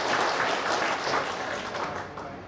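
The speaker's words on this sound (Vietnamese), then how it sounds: "Đề nghị chúng ta cho một tràng pháo tay để biểu dương và cổ vũ tinh thần của các bác." Sustained applause from an audience at a Việt-Lào association Lunar New Year gathering in Kiến Thụy district, dense steady clapping that stays loud throughout and tapers only slightly near the end, with no talk over it.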